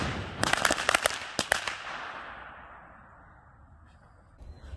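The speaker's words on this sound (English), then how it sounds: "That was a really good first bomb" Homemade stump remover and powdered sugar bombs go off outdoors in a quick series of sharp cracking bangs, clustered in two bursts, then a long fading rumble and echo with no voices.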